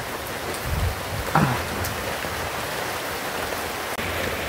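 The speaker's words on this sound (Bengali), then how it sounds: "বৃষ্টি বেড়ে গেছে আমার মোবাইল ভিজে যাইতেছে" Heavy rain falls outdoors in a dense, steady hiss close by, with a few brief knocks and taps over the constant downpour.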